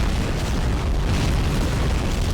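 A wave of Tunguska fire in Army Men of War hits as a continuous, loud barrage of booming explosions, rumbling heavily and without pause.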